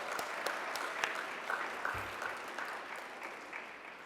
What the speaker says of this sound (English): So a round of applause for Heidi and the Chamber of Commerce for their 5th anniversary